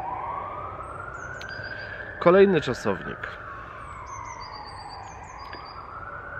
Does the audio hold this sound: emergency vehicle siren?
yes